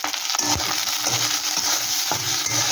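Pointed gourd (potol) frying in a pan for a mashed bhorta, with steady sizzling broken by several scraping stirs of a spatula against the pan, close by and with no voices.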